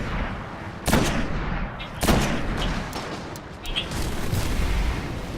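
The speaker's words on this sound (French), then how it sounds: "je suis obligé d'utiliser ton fusil de précision." Sniper rifle shots fired in the video game Destiny, two sharp loud blasts about a second apart over a steady din of game noise, with smaller pops and clicks following.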